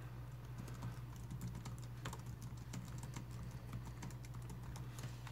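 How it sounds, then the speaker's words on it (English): Keys clatter on a computer keyboard in a quiet room, a faint, irregular run of close clicks over a steady low hum. "and I type in here"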